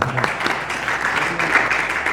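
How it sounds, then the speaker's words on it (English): An audience claps together during a devotional katha gathering at the ISKCON temple in Las Vegas, with steady, dense applause throughout the short moment and no clear speech over it. "We should all clap for Prabhuji's"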